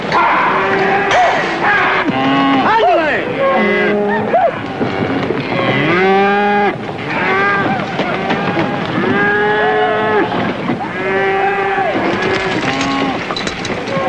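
Cattle low and bellow repeatedly during a cattle drive, many overlapping moos from a herd of steers at close range, loud and continuous with no talk.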